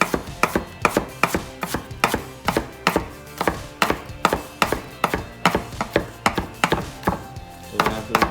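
A knife rough-chops onions on a cutting board, a fast, steady run of sharp, close knocks, about two per second, with no voices.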